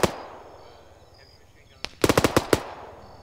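Machine gun fire in a military video game breaks out in a fast burst of loud, sharp shots after one lone shot, with faint background noise around it.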